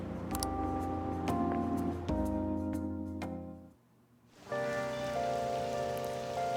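Steady rainfall from the video game Persona 5 Royal hisses over looping background music, briefly dipping nearly silent before resuming.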